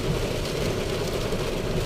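Loud, dense rain roars steadily on a house roof in Pasig, a heavy constant drumming with no pauses.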